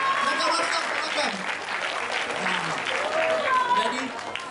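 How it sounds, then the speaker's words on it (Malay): An audience at a university golden jubilee celebration concert claps together, continuous moderately loud applause with faint voices mixed underneath. "Satu tepukan untuk Universiti Malaya"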